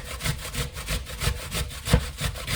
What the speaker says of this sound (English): So we're just going to grate everything